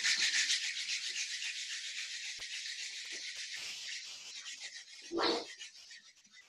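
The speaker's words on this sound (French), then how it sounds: "On va démarrer en frottant les mains." Two palms rub briskly together at close range during an at-home yoga session, making a continuous dry swishing friction sound for several seconds that surges briefly near the end.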